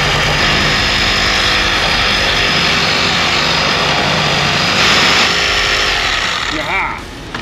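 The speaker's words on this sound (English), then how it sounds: "Sawzall time, just like the passenger side" A Milwaukee Sawzall reciprocating saw cuts through a seized strut bolt on a Honda, a loud, harsh, continuous buzzing rasp up close that runs for several seconds before it cuts off near the end.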